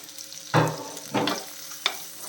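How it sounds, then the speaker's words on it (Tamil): Onions sauté in a pan for a fishless curry, with three distinct stirring scrapes and bursts of sizzle separated by brief pauses, close and moderately loud, no talk. "இந்த வெங்காயம் வந்து ரொம்ப ப்ரௌன் ஆகிறது வதக்கணும்னு கிடையாது ஒரு பாதி அளவுக்கு வதங்கினா போதும் வதங்கட்டும்"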